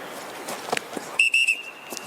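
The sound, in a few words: whistle blown at NFL scouting combine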